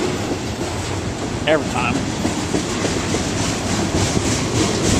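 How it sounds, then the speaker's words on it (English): A train passes close by, the first one of the day, as a steady broadband rumble and rattle of rail cars over strong wind, with someone talking briefly over it. "First train of the day, every single time."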